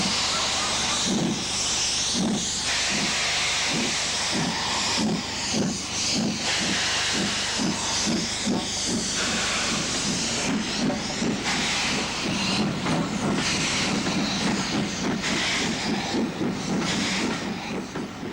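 Steam locomotive Jubilee Mars stands at a crowded station platform before setting off on the Settle and Carlisle line to Leeds, giving off a loud continuous steam hiss with rhythmic chuffing bursts.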